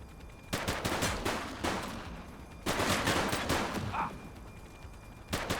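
Gunfire in The Precinct police shootout: several bursts of rapid shots, close and loud, separated by short pauses, with no talk over them.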